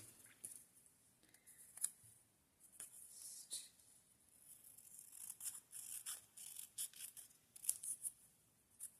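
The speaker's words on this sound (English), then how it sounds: "So I will just cut this out." Scissors snip through a magazine page while cutting out a picture for a paper craft, with soft, close, irregular crisp snips and paper rustles, faint and without speech.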